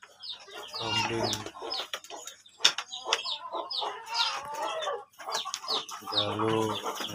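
A rooster and chickens call close by in a village poultry pen, with loud crowing bursts at the start and end and scattered clucks in between.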